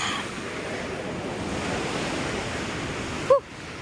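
Storm-driven waves and surging floodwater rush in a steady, loud broadband wash with wind buffeting the microphone, ending in a brief sharp knock near the close.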